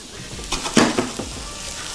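Mushrooms dropped into a very hot, smoking pan, a sudden burst of sizzle and clatter near the middle, then a lower steady frying hiss close by.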